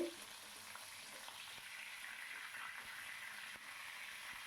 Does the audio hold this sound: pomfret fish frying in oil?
yes